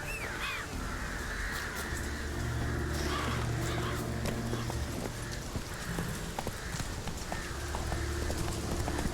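Hooves of the horse Roach clip-clop in a steady galloping rhythm through The Witcher 3 game world, with crows cawing nearby over a constant ambient background.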